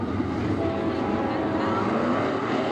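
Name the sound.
410 sprint cars starting heat race at green flag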